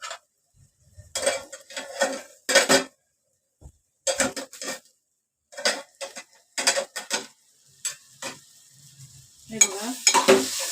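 Egg bhurji with tomato and onion stirred and mashed in a pan, bursts of scraping and clattering spatula strokes separated by brief pauses, close-up and clear with no speech.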